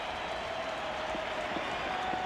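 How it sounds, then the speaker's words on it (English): A stadium crowd at a 1988 LSU vs Tennessee college football game in Knoxville applauds the Tennessee defense, with steady, distant clapping and crowd roar and no break in the noise. "a round of applause for the Tennessee defense"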